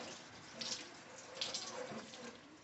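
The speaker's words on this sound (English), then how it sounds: "I had to turn the cold water on" A tap runs steadily with a broad hiss of water, swelling briefly a couple of times as the flow shifts.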